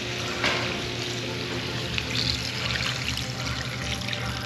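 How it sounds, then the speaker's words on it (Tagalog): Water pours steadily into a cooking pot for a paksiw dish, a continuous close splashing stream with no talk over it. "Ayan, lagyan natin ng tubig mga paps."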